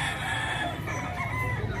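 A fighting rooster at a gamecock farm crows in one long, drawn-out call, loud and near over a steady, noisy farmyard background.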